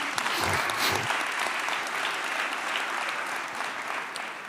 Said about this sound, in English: let's give one more round of applause to all the men and women at NYPD